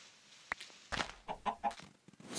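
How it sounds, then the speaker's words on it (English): A chicken in Minecraft Skyblock gives several short, separate clucks over about two seconds, fairly close and clear against a quiet background with no talking. "Chicken!"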